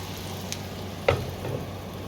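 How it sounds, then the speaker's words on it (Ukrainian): Soft, steady sizzling of syrniki (cottage cheese pancakes) frying in a covered pan, faint and continuous, with a brief clink partway through. "Ось так вони смажаться."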